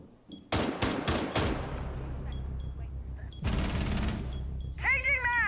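Video game gunfire in a multiplayer shooter match, a quick burst of four sharp loud shots followed by a longer heavy blast, with game sound effects and faint voices in the background.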